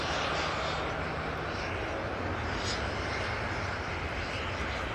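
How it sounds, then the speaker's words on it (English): A Delta Air Lines Airbus A330neo at Amsterdam Schiphol gives off a distant, fairly quiet and steady jet engine rush, an even broadband roar with a faint low hum and no voices. "Delta Airlines flight 143. A330neo going to Seattle,"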